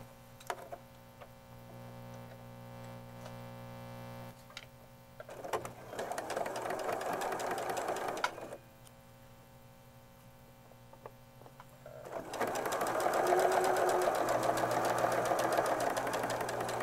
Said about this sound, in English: let's go ahead and sew this together, and then join them all together